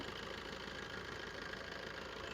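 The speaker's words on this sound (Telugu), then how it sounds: "ఇంజిన్ కూడా చాలా స్మూత్గా ఆడుతుంది" A 2017 Maruti Suzuki Ertiga VDI diesel engine idles with a steady, even hum and a faint rhythmic knock, heard close, with no talking.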